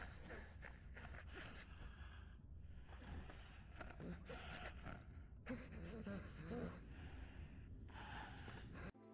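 Noisy, gasping breathing of creatures in the video game Darq, a dense, continuous rasping wheeze with snorts and sighs filling the whole stretch, loud and close.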